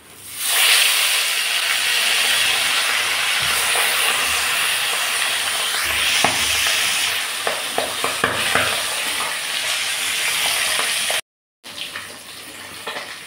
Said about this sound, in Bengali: মাছগুলোকে হালকা হালকা করে ভেজে নিচ্ছি।